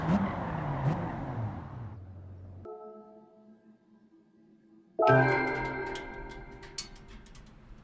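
A Honda NSX in Gran Turismo 7 at Tsukuba Circuit drones through a sweeping corner, its engine note falling away to a low steady hum, then surging back to a loud, rising rev with faint scattered clicks over it.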